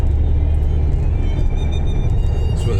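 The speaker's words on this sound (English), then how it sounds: "This car's a lot better to drive than the blue one" A car cruising on the motorway near the Bannockburn Interchange, Cumbernauld, gives a loud, steady low rumble of tyre and engine noise from inside the cabin, with no talking.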